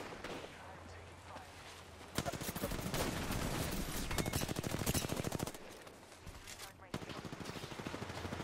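Rapid automatic gunfire in the Apex Legends video game, loud bursts with a pause in the middle, then more firing; a player's voice talks over parts of it.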